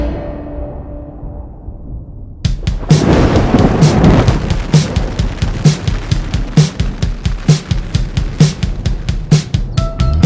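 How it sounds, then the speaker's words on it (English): Thunder cracks and rumbles over a night campsite, followed by a heavy, continuous roar of rain with rhythmic pulsing, loud and close. "There's also rumors of a big storm blowing in tonight"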